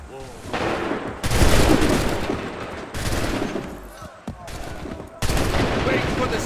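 Volleys of musket gunfire in Assassin's Creed 3 burst out loud in several heavy bursts separated by short gaps, with crackling rounds overlapping, and voices shouting over the shooting.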